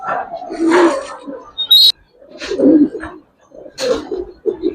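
Giribaz and racer pigeons coo close by in soft throaty rolling bursts, three or four calls separated by brief pauses, with a short sharp flutter or squeak in between.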